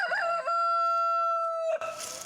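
A rooster lets out one long, loud crow at fairly close range, with a clucking start and a drawn-out sustained note, then the strain breaks off into background noise.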